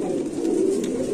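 A Bombay pigeon gives a low, throaty coo, a single sustained murmuring call close by and fairly loud, with no talk over it.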